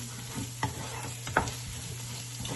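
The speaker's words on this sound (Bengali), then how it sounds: "এই হিংটা দিয়ে এটাকে আবার একটু ভাজুন" Asafoetida fries in oil with onion and ginger-garlic paste for a Kashmiri-style beef rogan josh, with a soft continuous sizzle broken by a few sharp spoon scrapes against the pan over a low steady hum.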